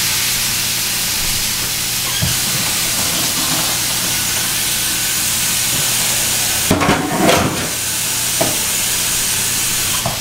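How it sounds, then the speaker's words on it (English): Chicken tossed onto a preheated stovetop pan sizzles in a loud, steady broadband hiss close by, with a few brief louder spatters and clatters partway through. "chicken on the stove. I have it preheating, so toss that on there."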